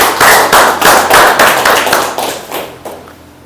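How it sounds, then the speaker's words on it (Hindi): A seminar audience claps together in loud, close, rhythmic bursts of hand claps that keep a steady beat and then trail off. "तो इनके लिए एक बार दोबारा ताली हो जाए।"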